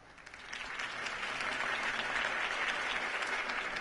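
Crowd applause following a campaign speech in the Batman Telltale video game, swelling in from quieter clapping to a sustained, dense roar of many hands that holds steady to the end.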